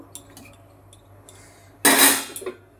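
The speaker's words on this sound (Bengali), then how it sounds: "দিয়ে কড়াইটাকে ঢেকে দেবো" A metal lid goes onto a wok of fish curry with one loud, bright clatter and a short rattle as it settles, after a few faint kitchen clinks.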